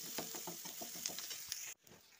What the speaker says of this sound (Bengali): এবার পেঁয়াজ কুচানোগুলো দিয়ে দেবো, পেঁয়াজ কুচানোগুলো ভেজে নেবো